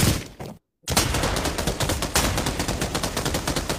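An MG34 machine gun in the VR shooter Pavlov, loud rapid automatic bursts with one brief cutoff near the start, then a sustained fast rattle of shots close by.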